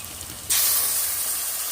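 Spice paste with dried red chilli drops into hot oil for a village-style rui fish kalia, setting off a sudden loud hissing sizzle after a quiet half-second that holds steady to the end.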